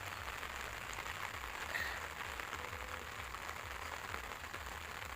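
Rain falling steadily on open farm fields, a soft, even patter that carries on unbroken at low volume with no voices.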